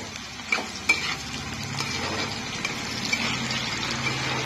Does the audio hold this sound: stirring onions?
yes